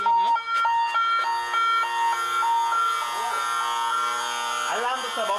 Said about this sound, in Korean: 집안이 떠나가라고 울리는 알람음